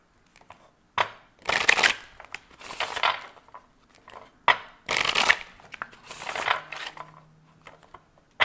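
Bursts of stiff oracle cards being shuffled, several riffling passes with brief pauses between them, close and crisp with no voices.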